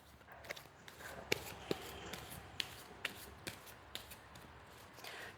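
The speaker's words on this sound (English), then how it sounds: "Let me just do a couple more shuffles here." A deck of tarot cards is shuffled by hand in a quiet room, giving faint, soft riffles with several sharp card snaps spaced irregularly, close and otherwise near-silent.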